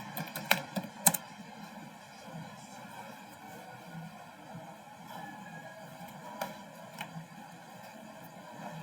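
Computer keyboard keys pressed in a Linux terminal while editing a server's resolver configuration: a few sharp, close clicks at the start and scattered taps later over a steady low hum, faint and with no voices.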